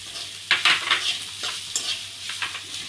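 Beans and spring onion stir-fried in a pan: a steady close sizzle broken by repeated scraping stirs, with no talking.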